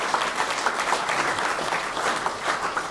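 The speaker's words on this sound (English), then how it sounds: "So a big round of applause" Steady, dense clapping from a crowd at the SCPF Championships awards, a continuous round of applause with no breaks, loud and close, with no talking over it.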